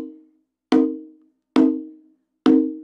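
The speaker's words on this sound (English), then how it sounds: "One, you could be too far out towards the edge. So that would sound like this." A conga struck too far toward the drum's edge gives a thin, ringing tone, three sharp hand strikes evenly spaced and close, each decaying quickly, with no other sound.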